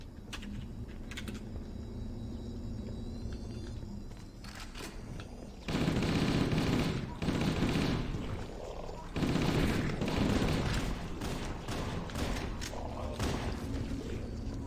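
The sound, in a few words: gunfire in Halo: Combat Evolved Anniversary video game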